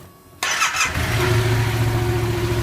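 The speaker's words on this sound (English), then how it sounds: "So now turn the engine on, turn it over." A Yamaha MT07 motorcycle engine cranks over after a quiet moment, with a brief starter whir and sputter, then catches and settles into a loud, steady idle nearby.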